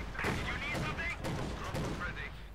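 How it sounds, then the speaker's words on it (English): A 222 armoured car fires autocannon rounds through thin house walls in the Company of Heroes 2 strategy game, heard as rapid, dense gunfire and battle noise under steady talk. "Continues to fire away there with the auto cannon rounds, piercing the thin walls."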